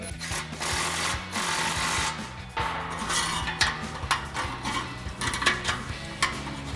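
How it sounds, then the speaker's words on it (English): An impact wrench with a 16mm socket snugs exhaust clamps on a Toyota Tundra dual exhaust install, a steady buzzing hammer running almost continuously, close and fairly loud, with brief pauses and metallic rattles between bursts. "we'll grab our 16mm socket on our impact and just snug these up"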